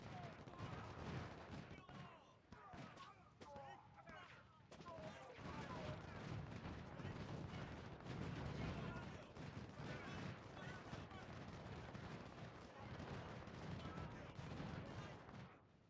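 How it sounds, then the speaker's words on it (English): In the Civil War battle video game Ultimate General Civil War, massed musket volleys and cannon fire from 24-pound howitzers crackle and thud continuously. The dense battle din stays fairly quiet and distant-sounding throughout. "A grand and glorious charge. Right into the gunfire."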